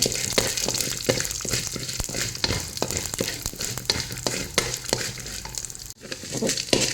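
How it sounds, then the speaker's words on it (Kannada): Urad dal and chana dal frying in a pan of hot oil make a dense, continuous crackling sizzle, with repeated stirring scrapes close by and a brief dip near the end. "ಆಮೇಲೆ ಒಂದು ಚಮಚ ಕಡಲೆಬೇಳೆ ಅದನ್ನು ಸ್ವಲ್ಪ ಫ್ರೈ ಮಾಡ್ಕೊಳ್ಳಿ"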